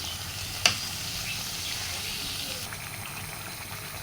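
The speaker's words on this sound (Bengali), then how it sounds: "হাঁসের মাংসগুলো দিয়ে নাড়াচাড়া করে তারপর ঢেকে দিব।" Pieces of duck meat sizzle steadily in a hot pan with a soft continuous hiss, one sharp knock of the stirring utensil near the start, no talking.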